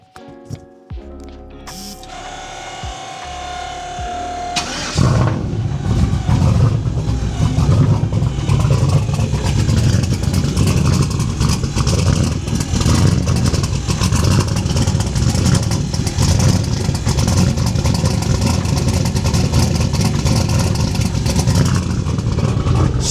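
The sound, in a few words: big turbo truck engine starting up and revving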